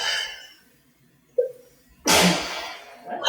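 A single loud, close sneeze bursts out after a short quiet stretch, preceded by a brief intake of breath.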